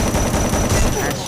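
Rapid gunfire from the Garena Free Fire mobile shooter game, a dense burst of repeated shots running the full length, loud and close with little pause.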